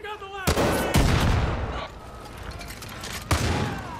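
Rocket launcher fire and explosions sound in the video game Far Cry 5 during a Henbane River mission. Several sharp, loud blasts hit close together, each followed by a rumbling tail, with a short gap before one last boom.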